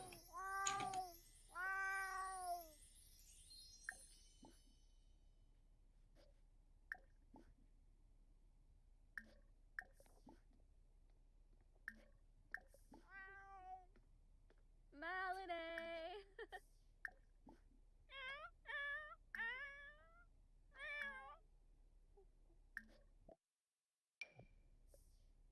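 Cats in The Sims 4 game meowing in short, tonal bursts, some quick repeated meows and a few longer calls, scattered over quiet game background with small clicks between them.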